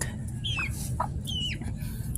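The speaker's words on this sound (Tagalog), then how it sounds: "tapos na silang kumakain ng tira-tirang kanin ng aking mga manok" Backyard chickens clucking after eating leftover rice, with a few sharp, chirpy calls and short clucks rising over a steady low rumble of background noise; no talking is heard.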